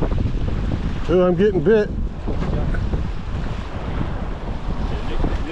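Strong wind roars across a beach during surf fishing from the shore, buffeting the microphone steadily while a person speaks briefly over it.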